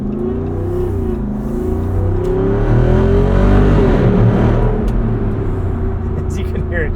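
A Jeep Wrangler Rubicon 392 V8 accelerates on greasy pavement, its deep engine note climbing in pitch through rising revs before a shift, loud and close from inside the cabin.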